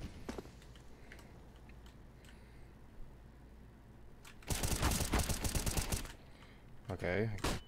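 Gunfire in a Wingman shooter video game match: quiet keyboard clicks and faint game sounds, then a loud rapid burst of shots and a second short burst near the end.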